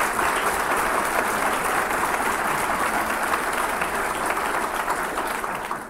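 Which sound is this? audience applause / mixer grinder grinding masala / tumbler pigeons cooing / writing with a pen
audience applause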